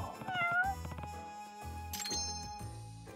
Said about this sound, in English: There's a cat nearby.